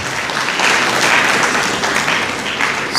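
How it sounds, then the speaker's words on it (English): An audience at an IIHT graduation ceremony applauds the graduating students, a loud, continuous wash of clapping from a large crowd with no talking over it. "Please, let's clap for them again."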